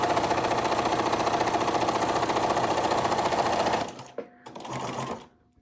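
A home sewing machine stitches through paper at a steady, fast rhythmic whir for several seconds, then stops abruptly, followed by a brief softer mechanical run and a quiet pause.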